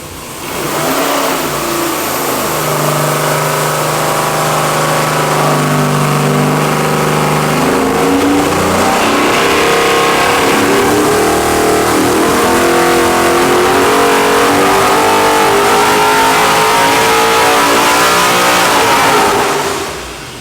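A 700 hp 441-cubic-inch LS V8 with 13.25:1 compression runs a full dyno pull, a loud continuous engine roar that climbs steadily in pitch as it revs for about twenty seconds before cutting off.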